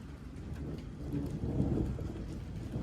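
Steady rain pours during a storm chase beneath a tornadic supercell, with a deep rolling rumble of thunder swelling through the middle of the brief stretch.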